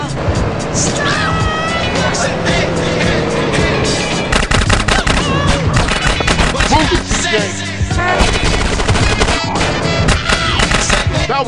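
Rapid gunfire and bursts of shots during a drive-by in GTA San Andreas, dense and loud over car engine noise, game music and character voices talking throughout.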